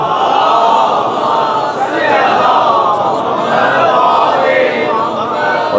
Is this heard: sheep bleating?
no